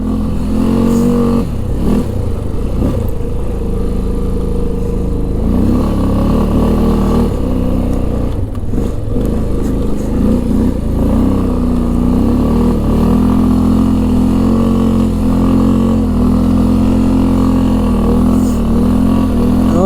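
A 2005 Honda Rincon 650 4x4 ATV engine pulls hard on a test drive, a loud, continuous close-up drone with rising and falling revs throughout.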